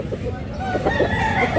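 A big rooster crows in a Cebu poultry setting, its drawn-out harmonic call rising over a steady murmur of background babble.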